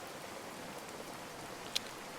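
Steady rain hisses in the tropical island survival game Card Survival: Tropical Island, a soft, even wash of falling water with one brief tick near the end.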